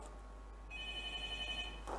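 Telephone ringing on an Indonesian TV call-in Quran recitation contest show, a steady electronic ring tone starting partway through, moderately loud over faint studio background, no talk.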